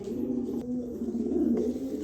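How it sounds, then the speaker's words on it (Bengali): A pair of black checker pigeons coo softly and continuously, low throaty murmuring close by in a loft, with no talk over it. "এখানে এক পেয়ার ব্ল্যাক চেকার কবুতর আছে"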